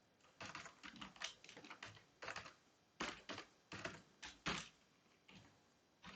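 Typing on a new computer keyboard, quick bursts of crisp key clicks separated by short pauses, close and isolated with no talking.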